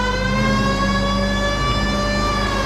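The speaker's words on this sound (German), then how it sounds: "ich sollte vielleicht doch die Sirene anmachen" A police car siren wails steadily in the L.A. Noire video game, loud and continuous over a droning engine, with no talk over it.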